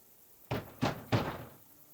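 Three firm knocks on a wooden door in Kingdom Come: Deliverance II, evenly spaced, close and distinct over a quiet background.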